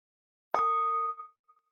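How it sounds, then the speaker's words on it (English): A meditation bell struck once at a Buddhist dharma gathering, a clear metallic ding with steady ringing tones that sustain and slowly fade over about a second, alone in silence. "I will invite a sound of the bell."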